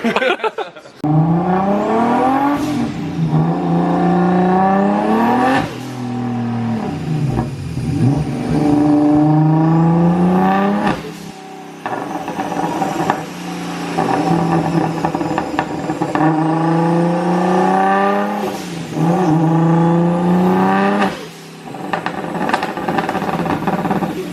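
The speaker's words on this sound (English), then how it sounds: "it's almost like a rally style anti-lag where it just retards the timing a bunch and decel" A Nissan R32 drift car engine, built toward 600 horsepower, revs up and down in repeated rising and falling sweeps, with crackling anti-lag pops on deceleration, loud and close.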